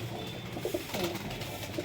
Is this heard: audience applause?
no